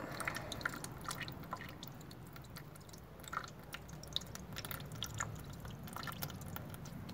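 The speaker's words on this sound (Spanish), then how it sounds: "Y acá pueden ver cómo sale el agua." Water drips steadily out of a homemade PVC survival water filter, a run of soft, irregular close-up drops and trickles that goes on without a pause, with no voices.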